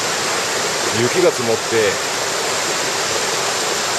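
A waterfall on a snowy mountain headwater stream pours with a constant, loud rushing roar, and a person speaks briefly over it near the start.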